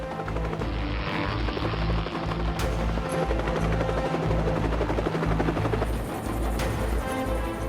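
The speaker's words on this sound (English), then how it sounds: "a squad of 4 Little Bird helicopters, backed up by 4 Black Hawks, launches from naval vessels" Little Bird and Black Hawk helicopters take off from naval vessels, rotors thumping loudly and steadily throughout, a heavy continuous roar close by with no pauses.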